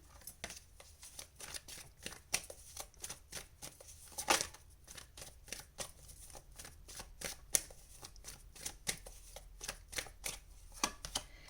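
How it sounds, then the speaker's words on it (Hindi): Tarot cards are shuffled and drawn, giving a close, quiet run of crisp flicks and riffling snaps in a steady, slightly uneven rhythm, with a louder shuffle burst partway through. "सो चलिए हम आपके टैरो कार्ड्स निकालते हैं।"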